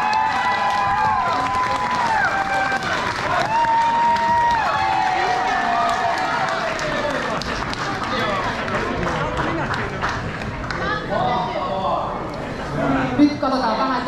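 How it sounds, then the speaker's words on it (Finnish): Audience at a 25th-anniversary gala screening of a long-running soap series, with steady crowd noise and applause-like clatter filling the whole stretch, mixed with voices and cheering close to the mic. "Pienet aplodit teille!"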